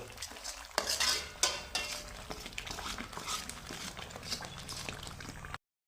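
Kashmiri chilli powder is stirred into spinach gravy for palak paneer, a wet, bubbling simmer with repeated spoon scrapes and soft knocks against the pan, fairly quiet and close, with no talking.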